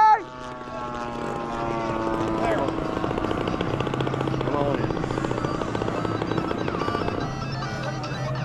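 Vintage warbird propeller aircraft flying in tight formation at a bomber field, a loud steady droning engine roar with strong tonal harmonics that holds across the whole stretch, close and continuous.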